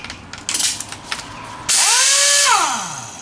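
Pneumatic air impact wrench running free: a few sharp clicks, then a sudden loud hissing whir that holds steady for about a second before spinning down, with no one talking.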